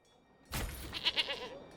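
Farm goats in the village-building game Manor Lords bleat a few times in quick succession, with soft ambient background beneath.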